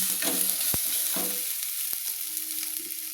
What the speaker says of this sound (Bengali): আমি ভালো করে আবার মশলাগুলো তেলের মধ্যে কষিয়ে নিচ্ছি